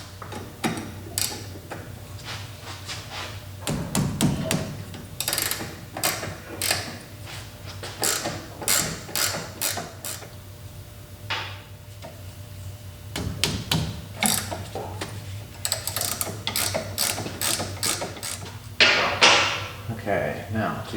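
A ratchet wrench undoing nuts on an MGB steering rack, heard as bursts of quick clicking ratchet strokes and creaks of mechanism at close range, separated by pauses; a person talks intermittently in between.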